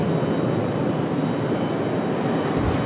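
An Airbus A319 takes off at Raleigh-Durham International Airport in a crosswind, its jet engines producing a steady, loud broadband roar with no clear change in level.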